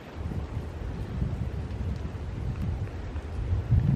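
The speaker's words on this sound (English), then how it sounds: "It is so rainy, blustery and also cold here today" Gusty wind and rain buffet the outside of an old thatched countryside cottage in Wiltshire, England, making a steady low blustery rumble with a fairly quiet, continuous wash of noise.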